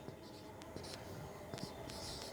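A pen or chalk scratches out short strokes while an algebra equation is written for a Class 10 lesson, faint and intermittent over a noisy, hissy background.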